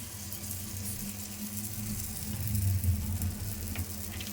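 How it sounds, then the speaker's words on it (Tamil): Batter for a healthy children's snack is poured bit by bit onto a hot pan and sizzles in a steady close frying hiss that swells slightly partway through. "கொஞ்சம் கொஞ்சமாக நம்ம மாவு எடுத்து ஃபஸ்ட்டு நம்ம ஓரத்தில் ஊற்றிக்கலாம்"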